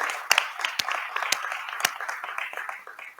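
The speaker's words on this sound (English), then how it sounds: "A round of applause now from England, UK, to everyone." Conference keynote audience applauding, with a burst of scattered hand claps that is moderately loud and fairly close, a few sharper individual claps standing out, then slowly thinning.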